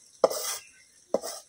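Two brief scraping stirs of spices being fried in a pan on a clay stove, each a sharp scrape trailing into a soft sizzle, close and fairly quiet with a pause between.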